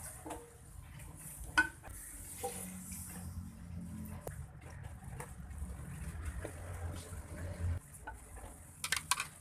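Water is poured into a pot of fried spices for fish curry with a steady rushing hiss, followed by spoon stirring and scraping against the pot's side; no one speaks.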